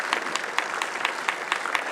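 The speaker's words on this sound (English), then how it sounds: "So let's give him a round of applause." An audience at a city council meeting claps in sustained applause to welcome a grade 5 teacher and his class, a dense patter of hand claps running steadily for the whole stretch with no voices over it.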